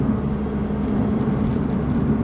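A second-generation Audi TT 8J drives along, its engine and road noise a steady, loud low rumble from inside the cabin, even and continuous, with no talking.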